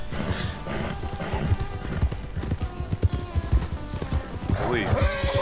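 Horse hooves clip-clopping with a whinny near the end, from horseback riding in the Western game Red Dead Redemption, loud and steady under game music and background noise.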